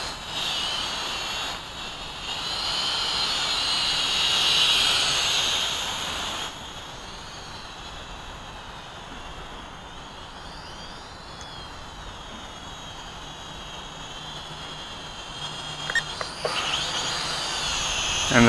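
A Syma X5C 2.4G mini quadcopter hovers after take-off, giving a steady high buzzing whine of small rotors that is louder at first, then softer and constant, with a few brief clicks near the end.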